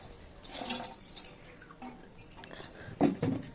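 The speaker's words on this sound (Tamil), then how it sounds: "தண்ணி சூடு வந்ததுக்கப்புறம் நம்ம கட் பண்ணி வச்சுருக்கிற பாவக்காய் எல்லாத்தையும் அதில் சேர்த்துக்கோங்க" Cut bitter gourd pieces drop into a pot of hot water, giving a few soft splashes and watery plops, with a sharper clink of pieces and utensil near the end, close and fairly quiet.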